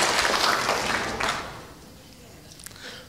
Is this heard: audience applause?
yes